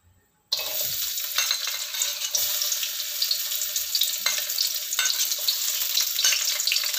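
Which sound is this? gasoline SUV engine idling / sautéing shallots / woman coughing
sautéing shallots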